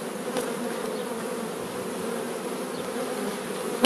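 Honeybees buzz steadily around an open hive during a spring inspection, a dense, even drone of many wings close by, continuous throughout with no voices.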